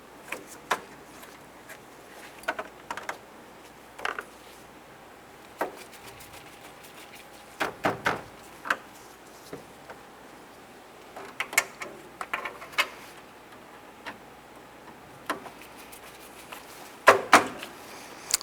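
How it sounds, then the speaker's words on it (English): Plastic push-pin retainers snap into the grille of a 2007-2012 Nissan Versa, a string of quiet, sharp clicks and pops spread irregularly across a near-silent background, with a tight burst of clicks near the end. "Install the plastic retainers to hold the center portion of the grill."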